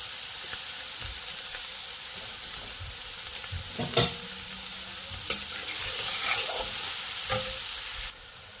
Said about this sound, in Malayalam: അതിലോട്ട് ചെറുതായി അരിഞ്ഞു വെച്ചിട്ടുള്ളത് മൂന്ന് എടുത്തുള്ള സവോള ഓട്ടിട്ട് കൊടുക്കാം